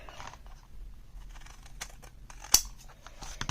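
Paper or chipboard for a photo mini album cut with scissors or a cutter, soft close snipping and rustling with one sharp snap partway through.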